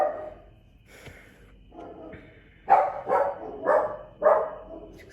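A small pet dog barks indoors: a few faint early yips, then four sharp, evenly spaced barks close by, growing louder toward the end.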